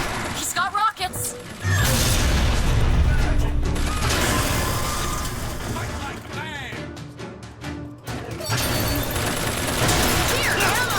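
Rocket fire and heavy combat in the video game BioShock Infinite: loud bursts, blasts and crashes pile up in a dense, continuous barrage, with short gaps before the fighting surges again and a voice shouting over it.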